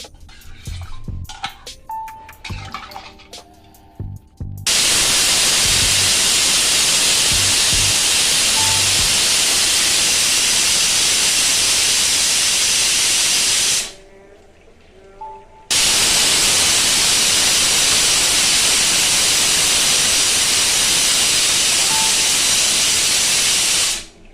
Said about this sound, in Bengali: আমি আবার তিন চারটে সিটি দিয়ে দেবো